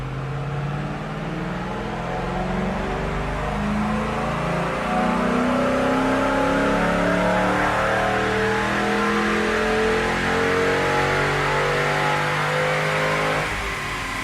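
A 2005–09 Ford Mustang GT V8 with a BBK underdrive pulley is run on a dyno. The engine climbs in one long, loud rising pull and holds its roar near the top before easing off at the end.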